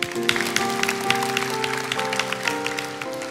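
A congregation at the Mawar Sharon church claps during a worship service, with scattered hand claps over sustained keyboard chords and music, moderately quiet and continuous.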